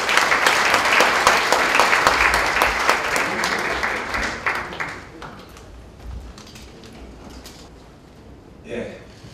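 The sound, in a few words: audience applause welcoming a speaker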